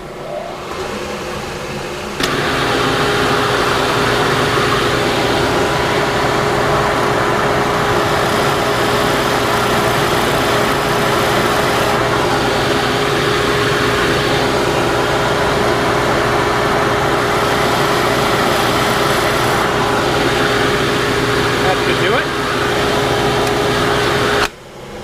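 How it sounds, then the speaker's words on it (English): A dust collector running in a wood-turning shop kicks on after a couple of seconds and drones loudly and steadily with a constant hum until it cuts off near the end, no talk. "So we'll turn on this thing and turn on the dust collector."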